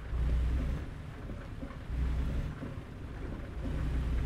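Dense, steady rain hiss from the video game American Truck Simulator, with low rumbling swells that rise and fall, like a downpour with wind gusts; no voices.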